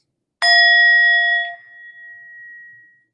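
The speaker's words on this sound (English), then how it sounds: "I actually brought a little gong here, so I'm going to use this for 60 seconds." A small hand gong is struck once, ringing out clearly with a bright metallic tone that sustains and slowly fades over a few seconds in an otherwise silent room.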